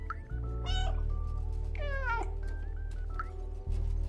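A cat meows twice in the video game Stray, two drawn-out, wavering cries over steady ambient game music, close and clear with no talking.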